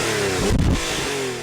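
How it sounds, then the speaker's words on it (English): Porsche 911 Turbo with a twin-turbocharged, intercooled flat-six boxer engine revving loudly up close, a steady roar that swells briefly in the middle and then settles, alone without talk. "The flat-six boxer engine, obviously turbocharged and intercooled ×2, unleashes"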